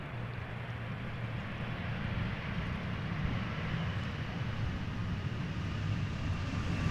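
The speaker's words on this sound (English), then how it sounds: "This is a very rare Embraer 175 arriving from Newcastle, KLM flight 962" A KLM Embraer 175 arrives at Amsterdam Schiphol Airport, heard as a faint, steady jet roar with broad rushing noise that holds level across the whole stretch.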